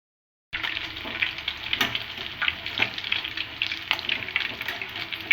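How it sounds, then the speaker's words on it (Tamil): Chilli chicken deep-frying in hot oil gives a steady, loud, crackling sizzle. Sharper pops burst out now and then, and the sound runs continuously without any voices. "இது ஒரு 10 நிமிஷம் நல்லா பொரிச்சு வரட்டும் ஃபுல்லாக"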